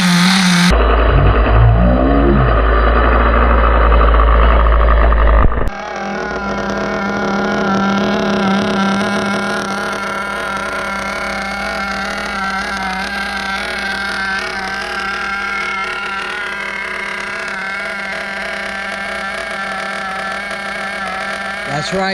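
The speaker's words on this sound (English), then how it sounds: "That's how we break in our engines in the air conditioning." A nitro engine runs steadily at high revs in a barn during break-in, loud and sustained, with a sharp drop in pitch and character about five seconds in before settling into a continuous droning roar.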